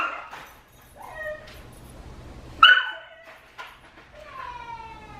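Dogs at home whimper and yip in high, wavering whines, with one sharp bark standing out midway, all fairly close in a quiet room.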